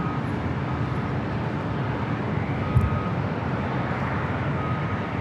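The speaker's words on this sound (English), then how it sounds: "Fiji A350-900, a rare north side arrival." A Fiji Airways Airbus A350-900 arriving on the north side at LAX, heard as a steady, broad jet roar at moderate distance, constant and without talk.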